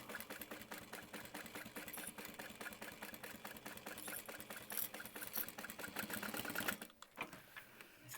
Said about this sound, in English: we're just going to top stitch along the top edge